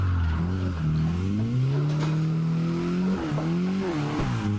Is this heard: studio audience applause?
no